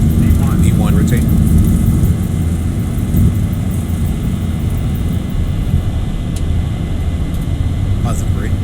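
A Boeing 737 in X-Plane 11 rolls for takeoff at Gardermoen in gusty wind, its jet engines giving a loud, continuous low roar with a persistent rumble throughout.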